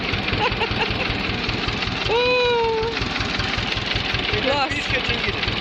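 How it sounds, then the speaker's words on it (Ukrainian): A tractor engine rumbles past on a forest edge during a mushroom-picking walk: a low, steady drone under rhythmic rustling, with a brief whistling tone in the middle. "мелькнув трактор"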